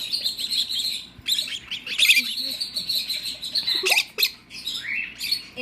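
Pet birds at a feeder chirp and tweet in quick, overlapping bursts, small high calls and rising squeaks repeating close by throughout, with a soft background hum beneath.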